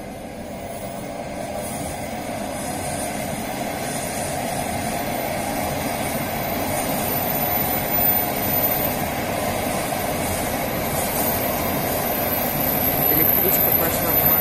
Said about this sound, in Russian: Электричка пошла в Москву из области.